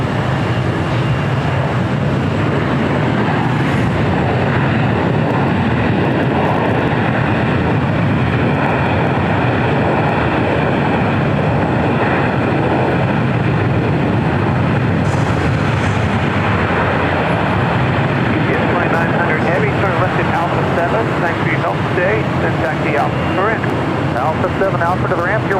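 Heavy roar of a China Freight cargo jet taking off from LAX runway 25 right, a loud continuous engine rumble that holds steady throughout, under radio chatter between the tower and pilots.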